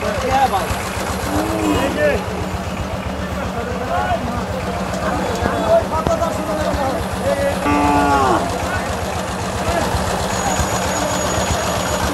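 Cattle at a livestock market moo several times in long, low, drawn-out calls over a constant hum, with people talking in the background.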